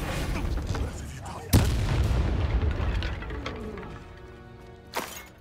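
A fire spell cast in the video game Hogwarts Legacy bursts out as a sharp blast, followed by a rolling roar of flame that slowly fades. A second, smaller burst comes near the end.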